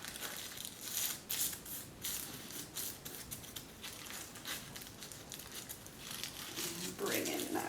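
Crinkling of paper folded into mitered corners over an old book's spine, repeated rustling crackles in short bursts up close, with a brief tearing at the end.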